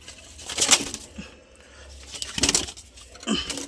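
Black pigeons in a loft give soft nearby coos and rustles, with a few short bursts of flapping wings and scuffling set apart by quieter gaps.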